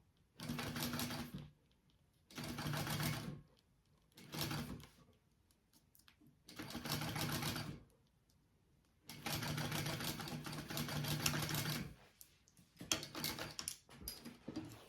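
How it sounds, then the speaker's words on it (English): A sewing machine stitches over fabric piping with cording inside, running in repeated bursts of steady mechanical whirring separated by short pauses, close and loud with no talking. "I'm also going to close and sew over that so it doesn't move at all"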